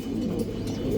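Pigeons coo at a pigeon farm in a steady low murmur, several soft overlapping calls close by with no talking.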